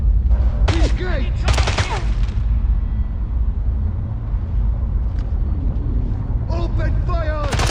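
Loud bursts of gunfire ring out in a Siberian coolant station firefight in James Bond 007 Blood Stone, dense and continuous, layered with whooshing effects and a rumbling low drone throughout.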